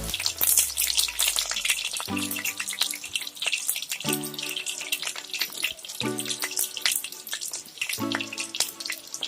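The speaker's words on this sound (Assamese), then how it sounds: "মিঠাতেলখিনি প্ৰায় গৰম হৈছে আৰু গৰম হোৱাৰ লগে লগে কাটি থৈ দিয়া পিঁয়াজখিনি মই দি দিছোঁ" Chopped onions sizzle steadily in hot mustard oil, a continuous loud crackling fry, with tonal music in regular phrases playing underneath throughout.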